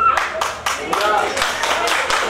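Wedding guests at a bride's garter ceremony clap in a quick, even rhythm, sharp close hand claps repeating about four times a second, with a voice partly audible under them.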